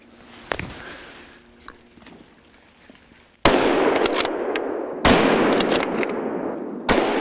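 Three loud, close rifle shots from a Sauer rifle during a wild boar hunt, spaced a second or two apart, follow a quieter stretch of faint outdoor sounds.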